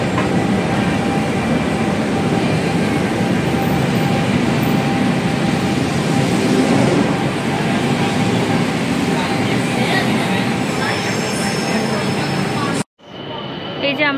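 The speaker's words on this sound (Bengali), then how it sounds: "এখানে এদের মেট্রোকে এরা স্কাই ট্রেন বল।" A Bangkok BTS Skytrain at Siam station, heard as a loud, steady rail rumble and rolling roar that fills the whole stretch before cutting off abruptly near the end.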